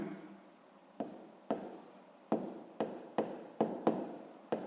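A pen writes by hand on paper during a sixth-grade math exercise: a series of soft, scratchy strokes and taps at an irregular pace. They are close and quiet, with no voice.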